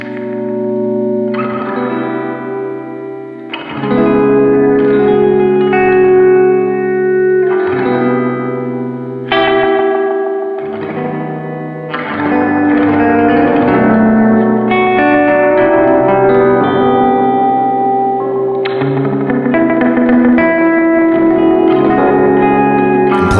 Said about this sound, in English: This switch right here is going to change the delay spacing, giving you just basically different options and a wider range of sounds inside of it.